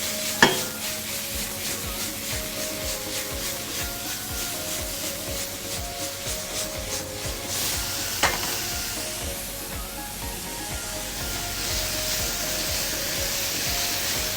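Bacon sizzles steadily in a pan for a breakfast frittata, a continuous close crackle with occasional sharp pops and soft stirring scrapes.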